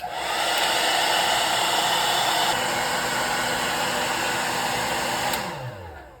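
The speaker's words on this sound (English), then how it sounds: "getting a blow dryer and heating her up" A hair dryer blows steadily on a Star Wars Black Series Clone Commander Fox action figure to heat and soften it, a close, constant whooshing whir with no talk that winds down and cuts off at the end.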